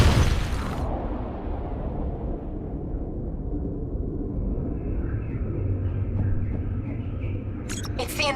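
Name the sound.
explosion in video game Call of Duty: Black Ops III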